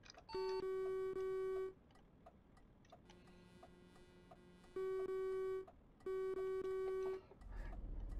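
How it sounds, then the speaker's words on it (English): A truck horn in the driving game Euro Truck Simulator 2 beeps in three loud, steady electronic tones, each held about a second or more, with soft engine hum between them. "when you press your horn, does it sound like, does it make a beep noise?"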